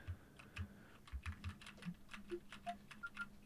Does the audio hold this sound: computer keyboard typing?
yes